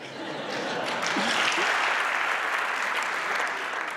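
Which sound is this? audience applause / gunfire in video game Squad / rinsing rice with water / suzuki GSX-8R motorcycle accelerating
audience applause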